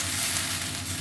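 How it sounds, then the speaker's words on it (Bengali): Steady hiss of water hitting a hot pan of hilsa fish curry, a continuous bubbling sizzle at close range with no voices over it. "জল দিয়ে দিচ্ছি।"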